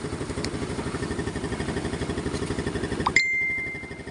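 A Yamaha Mio Soulty 115 scooter engine, recently repaired after stalling on throttle, runs with a steady pulsing idle that swells slightly before cutting off with a metallic ding near the end, close and moderately loud, with no talking.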